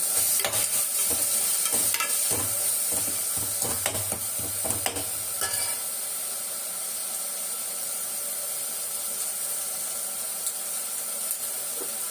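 Coriander and mint leaves being sautéed in a pan for biryani, a hissing sizzle with scraping stir strokes for the first few seconds, then settling into a steady, softer frying hiss with no voices.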